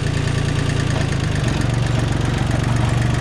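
A tractor engine held at lower revs with the clutch let out, a loud, close, steady low throbbing chug with a fast even pulse, running alone throughout.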